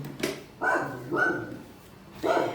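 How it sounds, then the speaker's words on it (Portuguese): A dog gives three or four sharp barks, near and fairly loud, separated by brief quiet gaps. "Pessoal, vocês desculpam o barulho do cachorro,"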